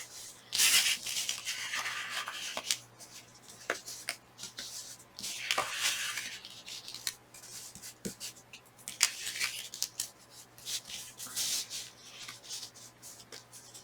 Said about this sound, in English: I'm just literally folding these all back